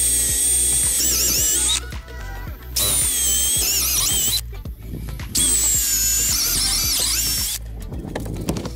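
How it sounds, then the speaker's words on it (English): A power drill with a Forstner bit bores holes into a deck for lights, three loud high whining bursts of two or so seconds each, separated by short pauses, close by. "drill out for these lights. Got this nice little Forstner bit"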